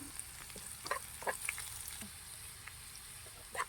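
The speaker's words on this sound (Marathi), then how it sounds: "एक पळी तेल टाकून ह्यात फोडणी करून घेऊया तेल झाले आता लसूण टाकून घेऊया आपण जिरं मोहर टाकूया" Quiet, steady sizzling of oil with small scattered pops and crackles as garlic, cumin and mustard seeds splutter in a hot pan.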